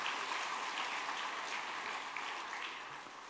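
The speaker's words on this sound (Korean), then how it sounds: "우리 아이들 위해서 박수 한번 쳐줍시다." A church congregation at a Sunday worship service claps for the children, a soft, even patter of many hands heard from a distance.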